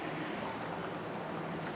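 Bisi bele bath mixture of mashed rice and sambar bubbling steadily in a pot, a continuous soft burbling and simmering hiss close up, with no voices.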